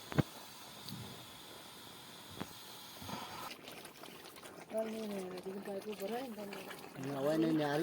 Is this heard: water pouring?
yes